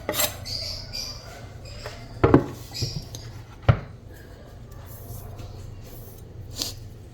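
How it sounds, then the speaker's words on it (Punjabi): A knife chops a small onion on a cutting board in a home kitchen, giving a few sparse, fairly close taps spaced seconds apart over a quiet background. "ਨਾਲ ਹੀ ਇੱਕ ਪਿਆਜ਼ ਬਿਲਕੁਲ ਛੋਟੇ ਸਾਈਜ਼ ਦਾ ਆਪਾਂ ਇਹਨੂੰ ਕੱਟ ਲੈਣਾ ਹੈ"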